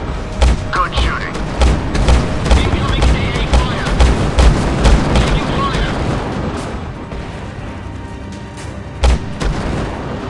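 Gunfire and heavy thumping impacts from the mobile combat game Drone 2 Air Assault, loud rhythmic booming bursts for the first several seconds, then quieter, with a single late thud and radio-style voices over the action.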